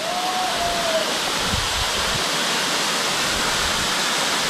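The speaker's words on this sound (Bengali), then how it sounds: "ওই উপর থেকে আসতেছে পানি একদম উপরে" A hillside waterfall swollen by monsoon rain pours down steadily, its dense, continuous roar of rushing water filling the scene from start to finish, with a brief faint tone early on.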